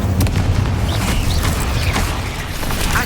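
A fire spell cast in the Hogwarts Legacy video game: a loud, dense, rumbling whoosh with mechanical creaks and crackling bursts that keeps going for about three seconds.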